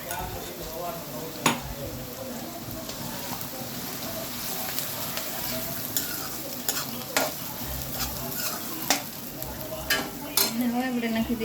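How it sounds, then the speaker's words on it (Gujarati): Ginger garlic paste sizzles in oil with onions, cloves and bay leaves for palak paneer bhurji, a steady close frying hiss punctuated by sharp clinks and scrapes of stirring, with faint talk at times. "હવે આપણે નાખી દઈશું 1 ચમચી ભરી આદુ લસણ વાટેલા"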